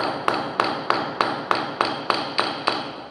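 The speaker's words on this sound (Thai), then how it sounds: "นี่วิธีการตอก" Floor tiles are tapped down into mortar during tiling: nine sharp, evenly spaced knocks about a third of a second apart, close and clear over a steady background hiss.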